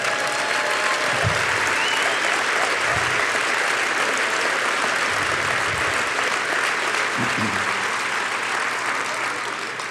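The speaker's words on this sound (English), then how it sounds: "Let's give a round of applause to the women in this room." Steady, loud applause from a conference audience at a palliative care awards event, honoring the women present, continuous for several seconds with a few low thumps underneath.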